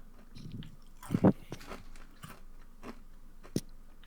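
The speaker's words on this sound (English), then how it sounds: "Crunch, ASMR crunch, cereal." Crunchy cereal chewed close to a microphone, a few sharp crunching bites among softer chewing and crackles, quiet and sparse.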